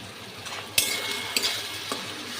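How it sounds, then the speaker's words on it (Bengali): Spice masala with onions frying in a pan for Bengali chicken kosha, a soft continuous sizzle close by, broken by three sharp metal clinks and scrapes of a spoon stirring against the pan. "এই ভাজা ভাজা এই মশলাটা"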